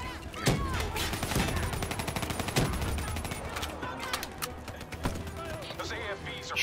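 Dense gunfire fills a Call of Duty: Black Ops III battle, with rapid automatic bursts and scattered louder shots firing almost nonstop under faint background voices.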